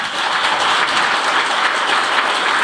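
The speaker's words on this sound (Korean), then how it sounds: "장관님께 다시 한번 박수 부탁드립니다." Steady applause from the audience at a policy forum on veterans' compensation, a dense even clatter of many hands that carries on throughout without voices.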